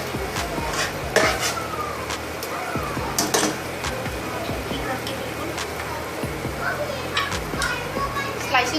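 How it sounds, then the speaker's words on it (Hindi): Utensil scraping and stirring against a hot pan as sliced onion is mixed into chicken tikka masala, with steady sizzling, clinking cookware and sharp metallic taps throughout, close and fairly loud. "हमने इसके अंदर प्याज डाल के इसको अच्छे तरीके से मिक्स कर लिया"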